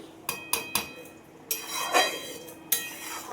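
A metal spoon stirs hibiscus flowers and leaves frying in oil in a pot for homemade hair oil, with sharp clinks against the pot's side and a soft sizzling scrape between them.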